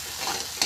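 Cooked mutton liver is stir-fried in a hot pan, giving a very brief soft sizzle with a quick scrape of stirring at the end.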